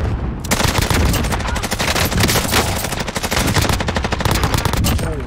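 Rapid automatic gunfire in Modern Warfare Warzone, loud and close, with dense bursts of shots firing almost continuously for several seconds.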